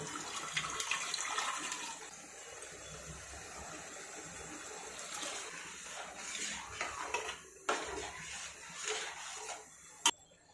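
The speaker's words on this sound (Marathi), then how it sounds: "गरम पाणी वापरणार आहोत." Hot water pours and splashes into a pan of rajma gravy, a watery rushing sound with a few utensil clinks and knocks.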